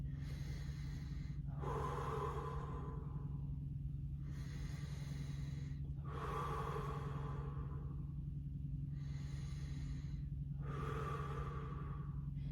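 Slow, deep breathing held in a standing yoga balance pose, with three loud airy exhales spaced about four seconds apart over a steady low hum, close and without talk.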